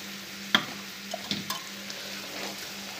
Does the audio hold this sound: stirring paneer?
yes